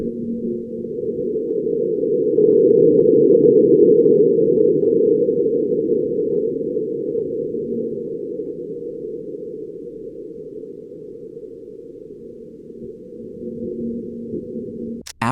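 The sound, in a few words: Mars winds and marsquake recorded by NASA InSight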